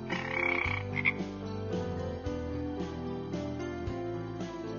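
A frog croaks repeatedly in a steady rhythm, loud and close, with layered tonal calls that overlap and no talking.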